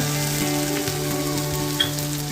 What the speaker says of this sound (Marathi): कांदा नरम झालेला आहे आता त्याच्यामध्ये मी एक टोमॅटो कापून घेतला तोटा घालून देते